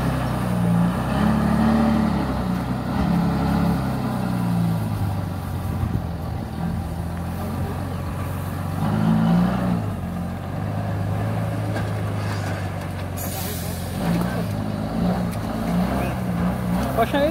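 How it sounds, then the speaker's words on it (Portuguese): A cattle truck maneuvered with its engine running, giving a loud, close diesel rumble that swells and eases as it moves, with occasional voices in the background. "Postando o caminhão para ir embora, galera"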